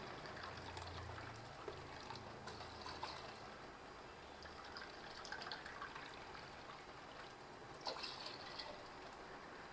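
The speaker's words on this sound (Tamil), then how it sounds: "அதுக்கு இப்போ நான் தண்ணி சேர்த்துக்கிறேன்" Water pours steadily into a pot for cumin and pea pulao in a soft, continuous trickle with faint splashing, no talk.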